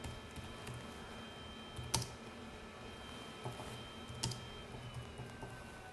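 Soft typing on a computer keyboard while entering a date into a document, a quiet scatter of key clicks with a few sharper taps over faint room hum.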